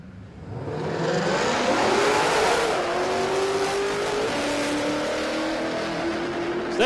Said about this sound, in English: Bartolo's just decided he's going to burn the tyres off of the back of this thing